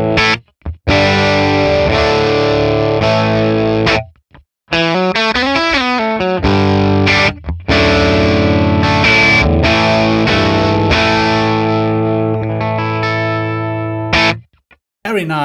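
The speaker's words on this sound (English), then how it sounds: "Very nice plexi-ish kind of tone" Distorted crunchy electric guitar playing from a Les Paul through a 1964 Selmer Treble n Bass 50 amplifier with reverb off, loud chords and runs with brief pauses, heard alone without talk.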